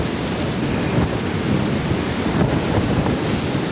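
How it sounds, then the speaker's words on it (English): Heavy wind-driven rain pours down sideways in a severe thunderstorm at a truck camp, a dense, steady roar close to the microphone with thunder rumbling low underneath throughout. "It's raining pretty good."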